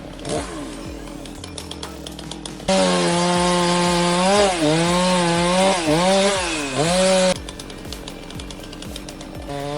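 A chainsaw revs loud and close while cutting into a tree, its whining engine rising and falling in pitch for several seconds before dropping back, with other rough mechanical noise around it.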